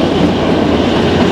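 The Kalka–Shimla toy train rolls along its narrow-gauge mountain rails as a steady, loud, close rumble from inside the carriage, with a continuous mechanical roar and no clear pauses.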